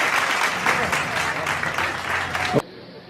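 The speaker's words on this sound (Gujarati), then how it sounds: "જોરદાર તાળીઓથી આપણે તો કૌશલભાઈને અને મોદીભાઈને વધાવી લઈએ" Audience applause ringing out at a Vishwakarma community mass wedding ceremony in Junagadh, welcoming guests onstage; dense sustained clapping from a crowd that cuts off abruptly near the end, leaving quiet room tone.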